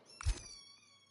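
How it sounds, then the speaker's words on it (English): A recording of a cat plays during an F1 25 racing game session: a single short, quiet meow-like cry, fading quickly. "Charles playing cat noises to get smudge out."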